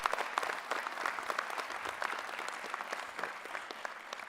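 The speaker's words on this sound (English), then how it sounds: "give a great round of applause to all of our faculty" A crowd at a fall university convocation ceremony applauds the faculty, a thick wash of many hands clapping at once, fairly distant and soft, holding steady throughout.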